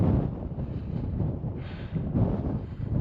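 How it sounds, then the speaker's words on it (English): Wind gusts across a mountain summit on Iron Mountain near Cameron Pass, buffeting the microphone in loud rough blasts that swell and ease, with no voices. "That wind is starting to pick up a little bit"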